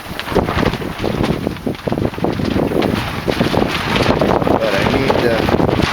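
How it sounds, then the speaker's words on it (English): Cold wind blows outdoors during motorcycle fork and brake work, buffeting the microphone in a steady, loud rush with constant low rumble for several seconds. "It's cold and windy out here."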